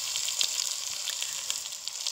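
Meat laid over onions in a güveç pot sizzles and crackles steadily and close up, with no talking.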